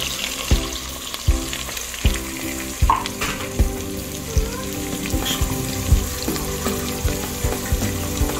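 Garlic fries in a pan with a continuous sizzle, while stirring adds a rhythmic series of scrapes and knocks roughly every half second to second, close and fairly loud.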